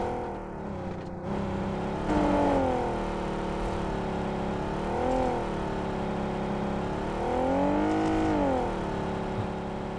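A vehicle engine in PUBG, steady and fairly loud, swells and revs in repeated rising-and-falling surges as it accelerates, without talk over it.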